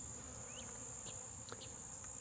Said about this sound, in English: It's just a mess of bees drinking that water.